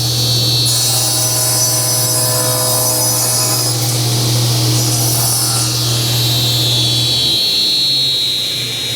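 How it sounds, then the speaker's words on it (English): Sliding table saw running on a sheet of plywood, a steady loud whine with a low hum underneath that shifts and drops near the end, no voices. "you see how this sliding table saw works"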